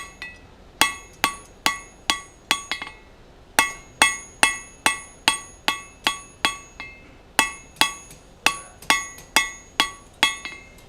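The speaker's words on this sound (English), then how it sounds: "hammer on those to push them back in" Loud, ringing hammer blows strike hot steel in quick bursts of several hits each while forging a taper, sharp metallic clangs with short pauses between groups.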